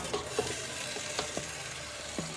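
Rice with sugar, ghee and cream being stirred in a pot, faint scrapes and soft knocks of a spoon over a low sizzling hiss, close and quiet.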